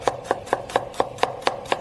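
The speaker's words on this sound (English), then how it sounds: "I'm going to chop my onion into fine cubes." Chef's knife from Solingen chopping an onion into fine cubes on a board: eight crisp, evenly spaced knife strikes at a steady brisk rhythm, close and clear with no voices.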